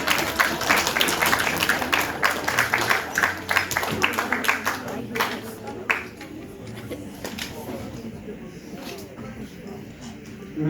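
Scattered applause from an audience at a Zero Robotics event, soft and loosely clustered, fading after a few seconds with voices murmuring underneath.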